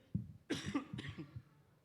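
A couple of quick, close coughs from a person with a cold during a church sermon, sharp and a little throaty, with a short throat-clearing sound right before them.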